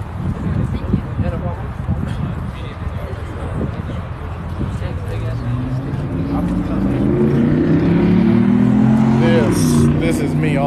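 A Ferrari F8 pulls away from a Cars and Coffee meet in Texas, its engine note rising and swelling into a loud, climbing drone over crowd chatter and nearby voices.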